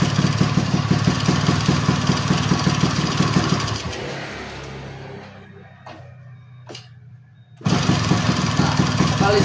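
A two-stroke motorcycle engine idles loudly with a rough, buzzy putter, then cuts out into near silence with a few faint clicks before restarting abruptly.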